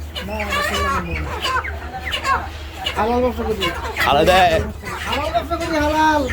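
At a poultry market, chickens cluck and squawk in repeated rising calls, near and loud, mixed with ongoing talk among customers and traders.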